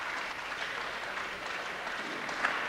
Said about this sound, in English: And applause from the Dominoes part of the crowd there.